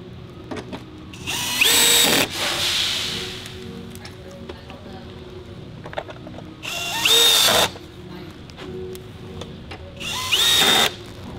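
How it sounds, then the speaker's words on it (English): A power drill drives screws into the underbody cover supports of a Subaru Crosstrek, in three loud whirring bursts separated by quiet workshop pauses. "We'll install the 3 screws that support the underbody cover."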